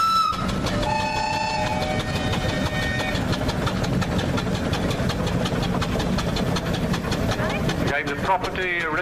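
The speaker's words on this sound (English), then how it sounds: "This is a 1931 engine, quite a late one." A 1931 vintage engine formerly owned by a county council, running at a vintage rally on Anglesey, with a steady rapid mechanical beat and tonal whine that stays loud throughout, broken by a brief change near the end.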